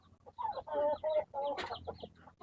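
Gamefowl in a backyard breeder yard cluck and call in several short, rapid bursts, fairly close, with a sharper squawk near the end.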